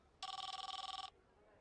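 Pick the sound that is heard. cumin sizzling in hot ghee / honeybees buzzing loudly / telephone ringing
telephone ringing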